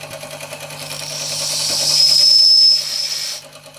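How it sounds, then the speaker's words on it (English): A small whistle on a restored Josef Falk overtype model steam engine gives a thin, hissy steam whistle of about two seconds. It swells and then cuts off over a quiet engine hum, with no talking. "let's see if the whistle works."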